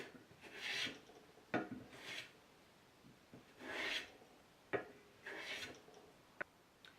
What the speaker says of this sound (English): I'll start by planing one face flat